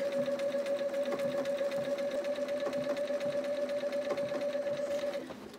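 Sewing machine stitching appliqué on a quilt with white bobbin thread, a steady rapid mechanical hum and tapping throughout, easing off at the very end.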